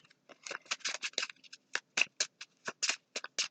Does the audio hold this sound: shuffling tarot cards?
yes